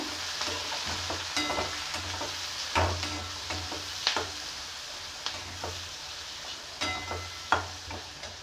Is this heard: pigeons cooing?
no